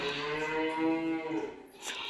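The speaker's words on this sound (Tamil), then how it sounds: "மாடு கத்துது" A cow lets out one long, drawn-out moo nearby, loud and steady before trailing off, with no talking.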